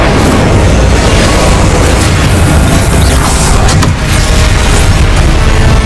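An Incendio fire spell cast in Hogwarts Legacy bursts as a loud, sustained roaring blast of flame and crackling rush, filling the whole moment at close range with a brief dip near the end.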